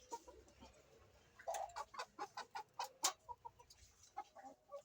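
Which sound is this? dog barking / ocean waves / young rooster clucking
young rooster clucking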